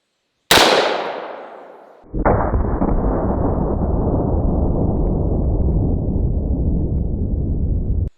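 An AR-15 rifle loaded with 73-grain 5.56 rounds fires once at a Terminator target, a single sharp, loud report that rings out and decays. Then comes a steady, loud rushing roar that lasts to the end.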